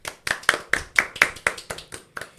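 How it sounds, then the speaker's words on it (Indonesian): Hands clapping during a school podcast at SMA Al-Azhar 3 Bandar Lampung, about ten sharp claps in a quick steady rhythm, close and distinct, then tailing off, with no talking over them. "tepuk tangan dong untuk kita semua."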